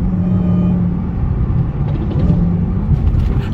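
Dodge Charger SRT Hellcat with a Demon-powered engine rolling through traffic in eco mode, a steady low engine rumble and road drone filling the cabin, with faint uneven pops mixed into the continuous noise.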